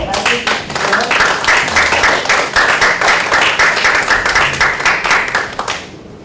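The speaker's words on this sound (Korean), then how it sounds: "뜨거운 박수로 맞이해주십시오" An audience claps warmly to welcome a presenter at a 2025 AI conference session, a dense, steady burst of many hands lasting several seconds before tapering off at the end.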